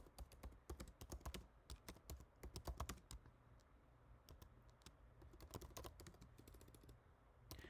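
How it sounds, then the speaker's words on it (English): Fingers type on a computer keyboard, a close, quiet run of rapid key clicks in uneven bursts with brief pauses, no voices present. "I want to just type out something."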